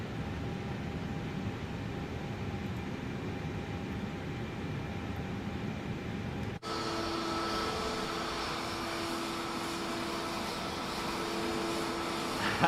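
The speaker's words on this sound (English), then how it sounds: "I still can't get over we're flying an Airbus in career mode" An Airbus airliner cruises in Microsoft Flight Simulator 2024 on Xbox, a continuous engine and airflow drone that holds steady, cuts abruptly midway, then resumes with a brighter, harsher whine.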